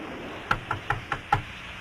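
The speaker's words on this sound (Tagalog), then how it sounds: "Sino kayo kumakatok?" Knocking on a wooden door in a Tagalog action film scene: five evenly spaced, firm raps heard close and alone over a quiet background.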